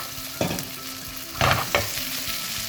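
Zucchini sautéing in a very hot pan, a continuous sizzle broken by a few louder bursts as the pan is tossed, close and without voices.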